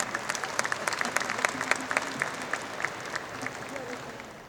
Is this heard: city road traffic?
no